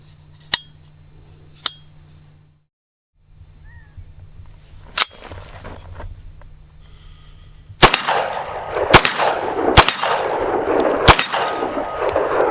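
A CZ Scorpion Micro EVO 3 S2 fitted with a Vortex red dot fires at an outdoor shooting range: two early sharp cracks, then a quiet stretch, then a run of five loud, ringing shots spaced about a second apart.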